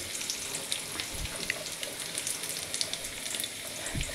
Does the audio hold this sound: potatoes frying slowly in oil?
yes